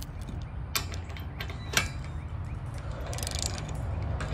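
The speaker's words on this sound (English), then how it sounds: "And drop our bolt in." A metal bolt drops into the latch of a wide wooden gate, giving a couple of short clanks and rattles over a steady low outdoor background.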